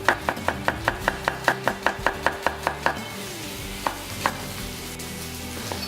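A knife slices red onions finely on a cutting board, about fifteen quick, even chops in a steady rhythm, followed by a few scattered cuts over a soft background sizzle from a pan.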